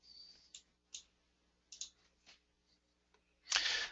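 Computer mouse clicks while working in flow cytometry software, a handful of sharp, quiet, separated taps over near silence, followed by a louder rustling burst at the end.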